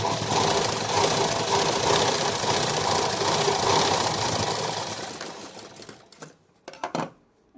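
A sewing machine stitches a blouse with a fast, steady mechanical rattle and whir that runs for about five seconds, then winds down into a few separate clicks and thumps from handling the fabric.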